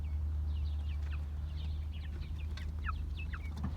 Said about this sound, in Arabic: اليوم اشترينا دجاج جديد وحبيت اوريكم اياه